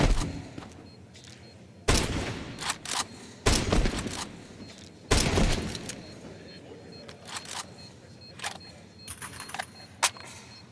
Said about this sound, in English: Gets the Deagle shot.